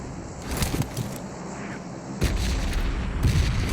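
Groza rifle fire in a video game, sharp bursts of shots with a heavier boom partway through, loud and close over a steady game backdrop, no voices.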